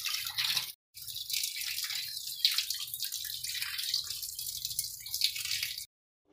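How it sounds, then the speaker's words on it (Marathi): Fish being rinsed in water in a home kitchen before frying, with steady close splashing and dripping that runs for several seconds, pauses briefly, then stops near the end. "आज बघा मासोळी आणला ती ते धुवत आहे."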